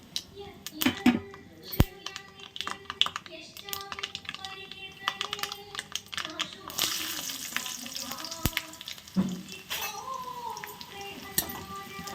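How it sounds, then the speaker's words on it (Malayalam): Mustard seeds crackle and sizzle in hot oil, sharp pops scattered irregularly, growing busier toward the end, with occasional faint voices in the background. "എണ്ണ ഒഴിച്ചിട്ട് കടുക് ഇട്ട് കൊടുത്ത്"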